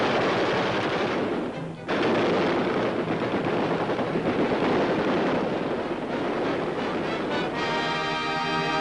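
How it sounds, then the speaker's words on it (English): Machine guns fire live rounds during military training, a dense, loud, continuous clatter of gunfire with a brief pause before the burst resumes, heavy rumble and wind noise beneath. "Machine guns spatter real bullets just above their heads."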